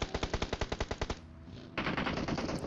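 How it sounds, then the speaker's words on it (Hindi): Heavy automatic gunfire in a battle royale game, a rapid burst of about a dozen loud evenly spaced shots, a brief pause, then a denser stretch of continuous firing. "और फायरिंग तो तगड़ी वाली हो रही थी।"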